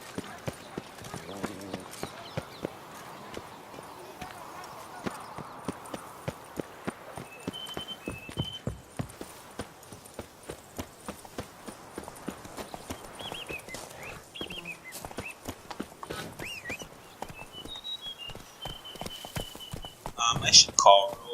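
A horse galloping in the video game The Witcher 3, a steady rhythmic run of hoof clops close by, with someone talking over parts of it.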